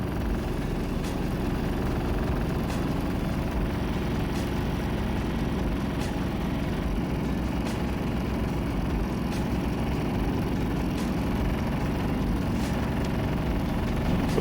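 A Predator 3500 generator engine runs at a steady, loud idle, a continuous low rumbling drone with faint regular ticks, close by and without voices.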